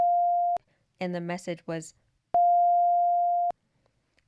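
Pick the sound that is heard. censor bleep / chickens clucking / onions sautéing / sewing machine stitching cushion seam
censor bleep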